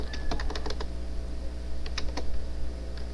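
Computer keyboard typing while entering Python code, heard as quick clusters of crisp key clicks with short pauses between bursts, close and fairly clear over a low steady background hum.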